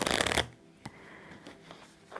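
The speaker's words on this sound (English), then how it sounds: "So I'm just shuffling the cards a little bit, getting them aligned" Tarot cards shuffled in a brief loud riffle at the start, followed by a few soft taps and slides as the deck is squared up, heard close and without talking.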